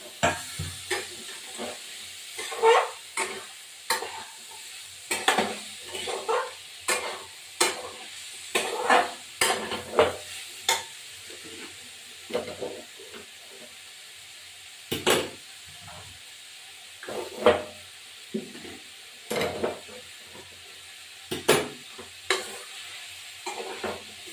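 Shrimp and figs cook in a pan for a Bengali curry, with repeated scraping stirs and spoon knocks over a low, constant frying sizzle, the strokes coming in irregular bursts.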